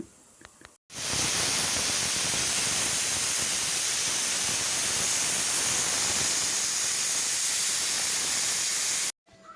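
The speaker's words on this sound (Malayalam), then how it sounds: "ഇപ്പോൾ കുക്കറിൽ ബീഫാണ് കേട്ടോ" Beef cooking in a pressure cooker in a home kitchen gives a loud, steady hiss of escaping steam that starts abruptly, holds constant for about eight seconds, then cuts off.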